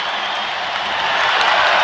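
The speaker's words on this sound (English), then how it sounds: "Listen to this crowd, Huddy." Loud, dense roar of a basketball arena crowd cheering at a Gonzaga vs Saint Mary's WCC Championship final, a steady wall of noise swelling slightly louder toward the end, with no voices standing out.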